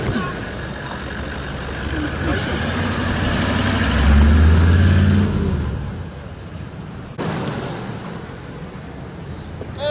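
Car engine idling and revving up near a crowd at an outdoor presidential handover event, a low rumble swelling mid-clip and easing off, with people talking over it throughout.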